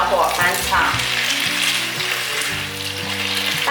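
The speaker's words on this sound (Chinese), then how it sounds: "把高丽菜翻炒，这时候可以开中小火翻炒" Cabbage stir-fried in a pan over medium-low heat, a loud, close, continuous sizzle with stirring rustles and a faint tonal hum underneath.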